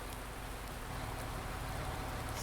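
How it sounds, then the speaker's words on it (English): Steady rain falls in Farming Simulator 19, a dense, even patter with no pauses or voices. "wait for the rain to stop"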